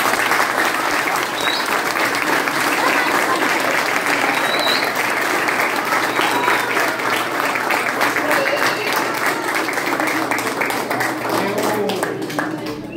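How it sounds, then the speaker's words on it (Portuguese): A crowd at a jiu-jitsu graduation ceremony bursts into sustained loud applause, dense and steady clapping that fills the room and tapers slightly at the end. "Gostaria que juntos também a gente pudesse saudá-los com uma salva de palmas."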